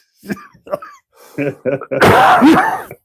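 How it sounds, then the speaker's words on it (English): Several short harsh coughs up close, followed by a longer strained cough and throat rasp. "I can't laugh without cough."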